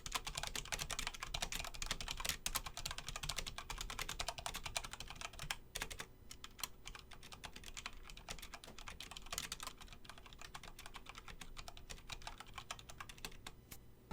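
Continuous typing on a Corsair K70 RGB RapidFire mechanical keyboard fitted with O-rings, a dense, steady run of close keystroke clacks with no voices.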